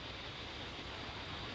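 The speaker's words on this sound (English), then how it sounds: "this goddamn beautiful hiss" Steady, even broadband hiss of cosmic background radiation picked up by a radio telescope, a dense unbroken static wash held at constant low level throughout, with no voices.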